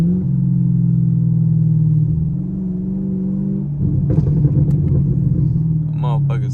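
A Chevrolet Camaro SS on the move, heard from inside: a loud, steady low exhaust drone, then a run of crackling pops and burbles on the overrun before the engine settles back to its rumble.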